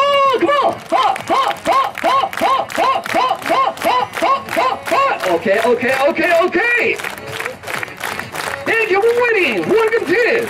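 A crowd at a motorcycle show claps in a steady rhythmic beat along to lively music, loud and close, while an announcer calls out over it.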